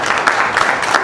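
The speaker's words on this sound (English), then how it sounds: "Clap if you read digital." Audience clapping in response to a presenter's question about reading digital books, a short dense burst of many hands.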